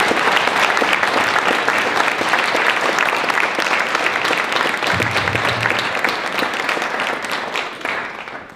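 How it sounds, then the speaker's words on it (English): An audience bursts into sustained, loud applause at an elementary school ribbon cutting ceremony, a thick continuous clapping that holds for several seconds before tapering off near the end. "Let's give them one more big round of applause."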